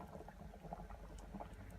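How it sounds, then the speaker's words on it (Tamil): Egg curry with ground coconut and poppy seed paste bubbling as it boils in a pot, a steady low simmering gurgle with soft pops, close and moderately quiet throughout. "குழம்பு நல்லா கொதிக்குது."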